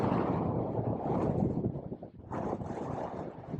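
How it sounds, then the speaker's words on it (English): Strong gusty wind buffeting the microphone beside a river, a loud low rumble that surges, dips briefly, then returns. "It's so freaking windy"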